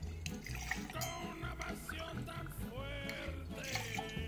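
Tequila pours into an open cocktail shaker in a steady, quiet trickle lasting several seconds, faint against a soft room background with a little music-like tonal hum and no speech.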